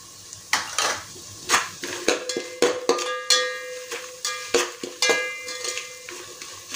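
A spoon scrapes and clanks against a metal pan while fresh coriander, onion and chili fry in it, with repeated sharp metallic taps and scrapes in an uneven rhythm over a faint sizzle and no talking.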